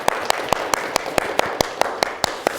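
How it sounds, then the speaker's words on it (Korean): A church congregation at an Easter thanksgiving service claps together in a steady, evenly spaced rhythm, about a dozen loud, sharp unison claps over a soft room murmur. "우리 하나님께 감사의 박수를 좀 올려드리면 어떨까 싶어요"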